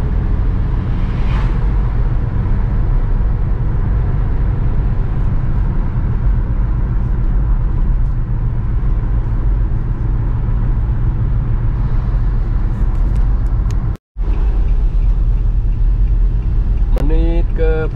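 A car on a night road trip drives along with a continuous low engine and road rumble that stays steady and loud, while voices talk over it and a brief dropout breaks the sound near the end.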